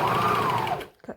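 Serger sewing off the end of fabric on a lounge top, a brief close whirring run that winds down abruptly, followed by a couple of soft handling taps.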